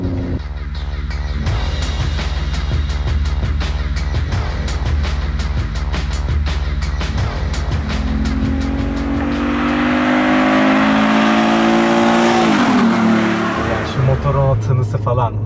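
Alfa Romeo 156 GTA's naturally aspirated engine idles with a deep, steady rumble, then revs up loud and rising before dropping back, with people talking in Turkish over it.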